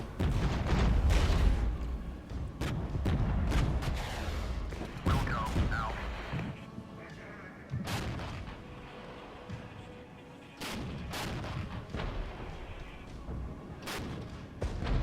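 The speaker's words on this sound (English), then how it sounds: "Let's drop some heavy artillery on the point in general." Heavy artillery fire in the war game Regiments, a dense run of booms and sharp reports rolling over each other, loud and continuous with brief lulls, no talk.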